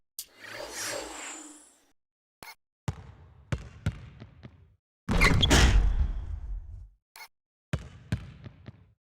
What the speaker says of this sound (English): A true power dunk, Kev.